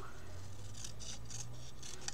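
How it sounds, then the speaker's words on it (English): Several quick crisp snips of small scissors cutting paper, roughly evenly spaced, close by over a low background hum. "I'm just using my small scissors"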